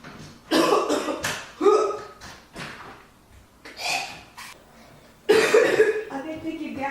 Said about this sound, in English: I just started coughing and blood started coming up.